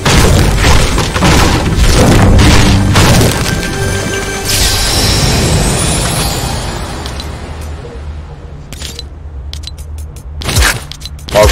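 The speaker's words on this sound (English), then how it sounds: "I've got a fucking grenade out" A grenade goes off in the Fortnite video game, a loud close boom and crash with debris rattling that slowly fades over several seconds, then a few sharp hits follow.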